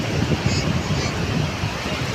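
Steady wash of sea surf rolls continuously on Divyaghar beach, with wind noise buffeting the microphone throughout.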